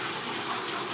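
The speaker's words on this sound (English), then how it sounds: "run the tap" Tap running into a newly plumbed sink, a brief steady close stream of splashing water.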